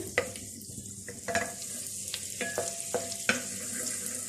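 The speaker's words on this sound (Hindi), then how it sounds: "इस चॉप लहसुन को इसके अंदर थोड़ा सा फ्राई करेंगे।" Chopped garlic frying in melted butter for chilli garlic pasta, with a steady soft sizzle broken by sharp scrapes and taps of a stirring utensil against the pan, close and moderately quiet, no voices.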